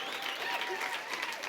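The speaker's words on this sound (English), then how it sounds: "She gets a standing ovation. The crowd goes wild." A gala crowd gives a standing ovation with dense, continuous applause and some cheering, fairly close, with voices mixed into the clapping throughout.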